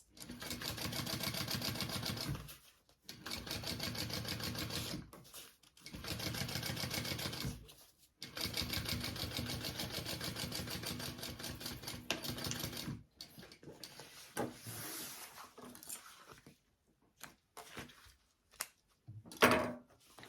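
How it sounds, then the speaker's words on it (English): Sewing machine top stitching the seam allowance of a tote bag, several bursts of rapid needle chatter separated by short pauses, then lighter handling clicks and fabric sounds near the end. "we're gonna top stitch along this middle piece here and through our seam allowance"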